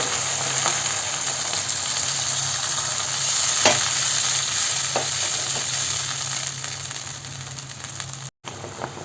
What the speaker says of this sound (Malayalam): അര കപ്പ് വെള്ളം ചേർത്തിട്ട് ഇതൊന്ന് തിളപ്പിച്ചെടുക്കാം